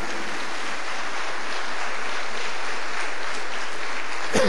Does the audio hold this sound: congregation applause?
yes